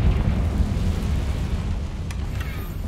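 A Confringo fire spell blast in the Hogwarts Legacy video game, heard as a sustained, loud, low rumbling roar that fills the whole stretch with a brief crackle near the end.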